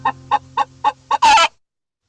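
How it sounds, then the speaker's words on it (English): Several short, evenly spaced clucks from a chicken give way to a single loud, harsh rooster crow, close and clear, then silence. "Do you know what makes that sound? A rooster makes it."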